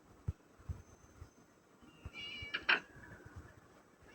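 A cat in the Scary Teacher 3D video game gives one short, clear meow near the end, set against a quiet game soundtrack with a few soft thumps earlier.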